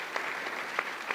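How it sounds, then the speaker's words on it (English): Applause at an annual investor gathering, a brief burst of steady, fairly loud clapping from the room with a few sharper individual claps standing out. "round of applause for Tommy and Ollie."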